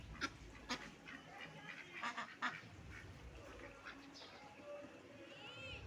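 Chinese and native ducks quacking on a farm, a scattered mix of calls at moderate distance over a steady outdoor background hiss.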